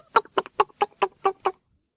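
A group of six hens clucks as an audiobook sound effect, seven short, evenly spaced clucks, close and clear, then silence.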